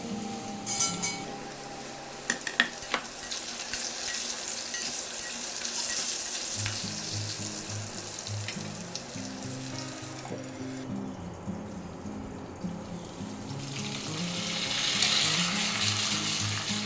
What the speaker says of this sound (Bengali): এবার আমি এর সাথে পটলটাও ভেজে নেব একটু।